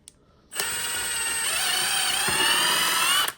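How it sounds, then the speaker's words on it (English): A power drill with a 1/8 inch bit whines steadily for about three seconds while drilling a hole in skull bone, starting and stopping abruptly, close and fairly loud. "I'm gonna drill that 1/8 inch bit hole right there."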